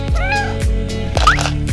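A cat meows several times in quick succession, close and clear, with short rising and falling cries over a low steady hum in a Hindi-language drama scene.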